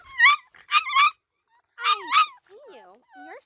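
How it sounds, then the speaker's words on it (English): Eight-week-old French bulldog puppies letting out several short, high yips and little barks in quick pairs, followed by softer whining squeaks, close by and with no talking. "now you're just discovering that you have a bark today"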